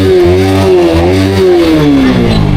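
A faulty motorcycle that has been making a knocking, clattering noise, revved hard with the throttle; the loud engine note climbs and falls in steady waves for nearly three seconds, close and without talk.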